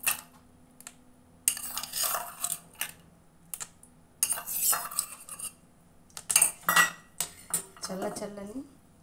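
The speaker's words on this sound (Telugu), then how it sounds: "కొన్ని ఐస్ క్యూబ్స్ వేసుకుంటూ" Ice cubes clink and clatter into a bowl of banana milkshake in several short, bright bursts separated by quiet gaps, with a voice briefly heard near the end.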